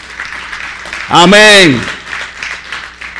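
A church congregation applauds in a dense background patter while a single loud voice calls out briefly near the middle.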